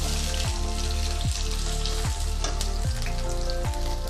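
Sliced onions frying in hot oil for a prawn biryani masala, a loud steady sizzle close up with regular scraping stirs about every 0.8 seconds, no talking.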